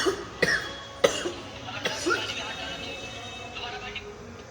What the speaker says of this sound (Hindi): खांसी भी आ रही है बहुत तेज